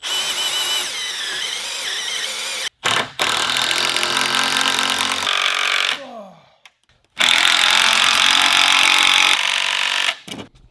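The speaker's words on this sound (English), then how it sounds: "I'm going to drill 2 pilot holes with a drill bit" A power drill whines loudly in several bursts while drilling pilot holes for braces, spinning up and cutting off, with brief pauses between runs.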